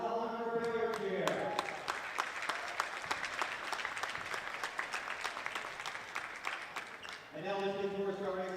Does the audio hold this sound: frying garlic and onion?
no